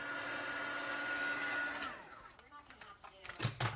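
An embossing heat tool blows hot air with a steady whoosh that cuts off partway through, followed by faint handling noises and a couple of soft knocks.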